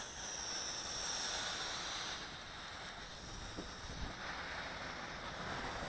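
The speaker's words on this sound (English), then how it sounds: "Wind kicking up a little bit." Outdoors, wind rushes and buffets steadily against the microphone, a broad, moderately faint roar with no voices.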